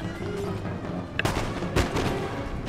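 Massed musket volley from line infantry in Empire: Total War, a loud crackling burst of gunfire followed by a second booming salvo over a continuous battle rumble.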